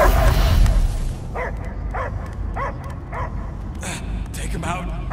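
In the video game Guardians of the Galaxy, a dog gives a run of short, evenly spaced barks and yips after a brief burst of voice at the start.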